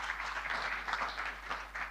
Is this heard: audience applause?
yes